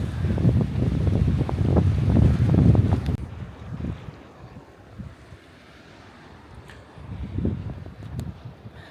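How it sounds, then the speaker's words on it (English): Icy Atlantic Ocean wind gusts hard against the microphone along the coast near the Atlantic Ocean Road in Norway, loud rumbling buffets for the first few seconds, then easing to a softer, steady rush before another gust swells up. "Like a proper icy cold Atlantic Ocean wind blowing in."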